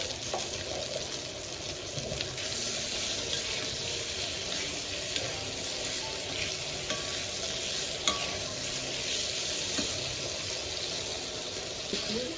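Tangra fish sizzle steadily in hot oil with salt and turmeric, a dense, continuous frying hiss broken by occasional faint clinks and stirring noises, close and without talk.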